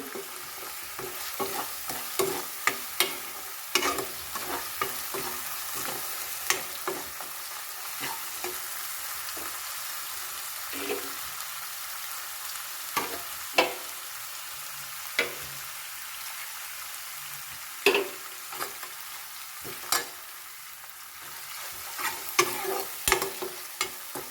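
Cashew nuts fry with spices in a pan for milk chicken: a continuous near sizzle with many sharp scraping and clacking stirs at an irregular pace throughout, alone without voices.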